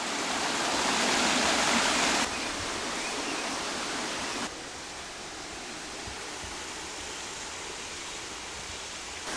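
Waterfall on Dartmoor in South Devon, a continuous broadband rush of falling water, steady and fairly close, with a few abrupt level drops as the position shifts and no voices.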